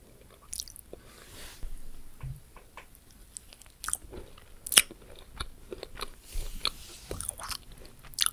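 A chocolate cookie from a Japanese snack assortment being bitten and chewed up close, with repeated crisp crunches and soft chewing noises spread over several seconds, no talking.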